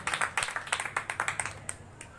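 A congregation at a church service claps in a quick, rhythmic burst of many hands, fairly close and without voices, before the clapping trails off after about two seconds.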